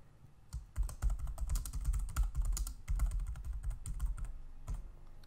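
Keys clatter in a quick, uneven run of typing on a computer keyboard while text is entered into a web page builder, close and clear, with short pauses between bursts and no talking.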